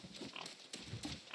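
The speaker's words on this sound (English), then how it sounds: "There's another pig over here." A pig grunts and oinks in the video game New World, in a few short, quiet snorts close by, with no talking.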